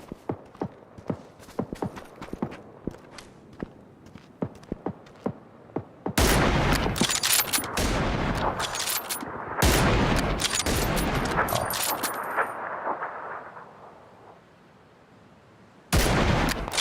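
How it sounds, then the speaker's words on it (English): Gunfire in the PUBG video game, sharp isolated shots early, then a dense loud barrage of rapid fire lasting several seconds, fading out before another burst near the end. "Oh shit, I'm getting shot at. Whoever this is just shooting at us."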